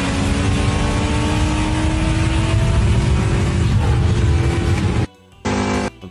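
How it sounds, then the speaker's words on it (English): A new Toyota Supra races a Camaro at a street takeover, engines roaring loud and sustained with rising pitch as they accelerate away, then the sound cuts to near silence before a short final burst. "it's a new Supra versus a Camaro"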